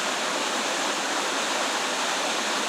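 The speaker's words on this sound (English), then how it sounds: "As you can see, the river is very, very fast" The fast-flowing St. Joe River in St. Joseph County rushes with a steady, dense roar of water, loud and continuous, with no voices heard.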